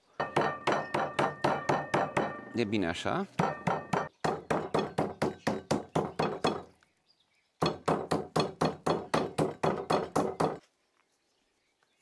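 A hammer pounds smoked meat outdoors in the Vrancea mountains, sharp rhythmic blows repeating in fast even runs with short pauses between, close and loud; a voice speaks briefly.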